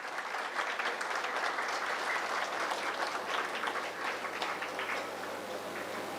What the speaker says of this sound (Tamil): நல்லாவே கைத்தட்டலாம்.